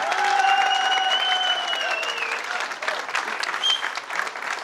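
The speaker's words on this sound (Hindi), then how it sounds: "एक बार चाहूंगा हमारे महादेव के लिए जोरदार तालियां" Loud crowd applause at a corporate company event, steady clapping from a large audience throughout with some shrill whistle-like tones over it.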